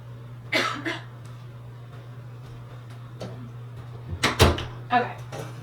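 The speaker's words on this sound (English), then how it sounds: "Every time my nose runs, I have to cough." A person coughs close by in a few short bursts, one early and a stronger cluster near the end, over a steady low electrical hum in an indoor room.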